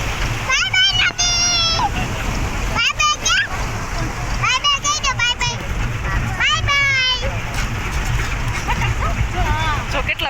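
A duck splashes while bathing in the flowing water of a full river. Steady splashing and rushing water run throughout, with several voices talking and calling out over it.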